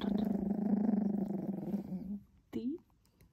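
A four-week-old miniature pinscher puppy gives a low, rumbling growl for about two seconds close to the microphone, followed by a short rising squeaky whine.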